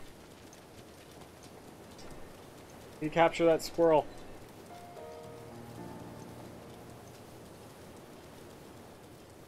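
Steady soft rain patter in a video game hisses throughout while someone briefly speaks over it, followed by faint musical tones.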